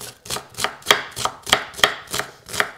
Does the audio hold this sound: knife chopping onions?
yes